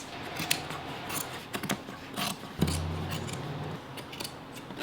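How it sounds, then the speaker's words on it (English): Scissors trimming excess upholstery fabric on a mid-century dining chair, a run of sharp snipping cuts, close and crisp, with irregular rhythm and a brief scraping rub midway. "Now I'm just gonna trim off all of this excess."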